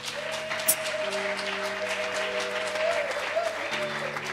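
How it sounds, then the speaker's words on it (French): A gathered assembly applauds and cheers as a man steps forward at an official event, with steady clapping underneath sustained musical tones and a brief sharp burst near the start. "nous le recevons avec acclamation."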